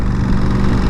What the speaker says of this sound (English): I can't hear you over the exhaust in front of me.